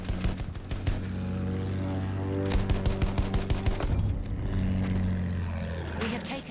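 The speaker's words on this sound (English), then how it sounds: "Oh, stop shooting at me." Battlefield 1 combat with bursts of rapid gunfire and heavy shots crackling over the steady drone of an attack plane's engine, the firing coming in repeated clusters across the whole stretch.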